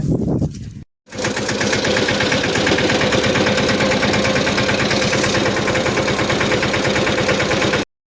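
A steady, loud engine idles with a rapid rhythmic chugging that runs without a break for most of the clip, after a brief pause near the start.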